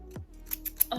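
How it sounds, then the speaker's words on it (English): Thinning shears snip through synthetic wig hair in sections, giving a few quick, crisp metallic cuts at close range in an otherwise quiet space. "you take the thinning shears and within sections of the wig, you would thin out the hair"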